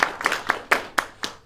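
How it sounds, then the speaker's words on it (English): A few people clap slowly and unevenly, a handful of distinct claps close by, sparse rather than a full crowd. "So I'd like to give them a clap."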